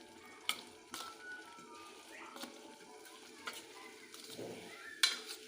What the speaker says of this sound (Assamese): এতিয়া গোটেইবোৰ ভালদৰে সানি দিওঁ।